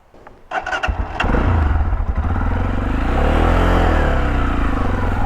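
A Chinese motorcycle's engine cranks and catches, then settles into a loud, steady idle close by on a hunting-ground track, with no voices over it.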